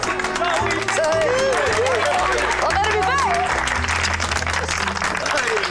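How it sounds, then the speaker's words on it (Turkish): Crowd applause with clapping at a medal presentation on a Turkish TV show, steady and dense throughout, with a voice talking over it and music underneath. "Alkış, alkış, büyük alkış, büyük alkış."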